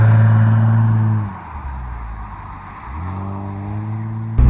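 A restored old car that sat abandoned for years, with direct cable throttle, revs up loudly, drops to a lower rumble as it accelerates away, then climbs again into a strong engine note, close and alone.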